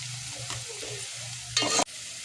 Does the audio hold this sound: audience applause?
no